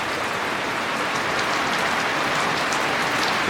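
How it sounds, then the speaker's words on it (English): Steady, dense rain falls on backyard grass in a downpour, a continuous close hiss of many drops with no voices. "rain on the grass."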